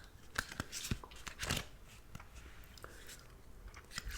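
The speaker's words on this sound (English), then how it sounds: "So I'm going to pop in a mint." Crunchy chewing of a hard mint close to the mic, with irregular bites and crackles over a few seconds.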